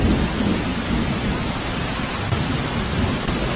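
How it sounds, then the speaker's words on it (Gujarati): Heavy monsoon rain in Khambhalia, Dwarka roars steadily, dense and loud, with deep rumbling thunder beneath it and no voices. "દ્વારકાના ખંભાળિયામાં પણ ધોધમાર વરસાદ વરસી રહ્યો છે"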